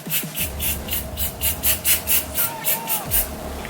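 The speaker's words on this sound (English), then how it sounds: "I like to take a little bit of hairspray and spray it directly onto the gel." Hairspray hisses onto gel on a lace frontal wig in a run of about ten short, even bursts, close and fairly loud.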